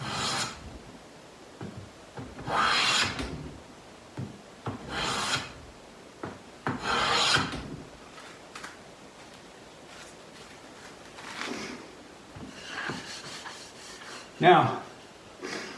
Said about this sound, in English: The sapwood side has to get planed in this direction